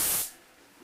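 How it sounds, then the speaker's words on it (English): A spray gun mists PVA release agent onto a fiberglass mold: a short, close burst of fine spray hisses loudly, then cuts off within a fraction of a second. "Now I'm going to spray these with my PVA."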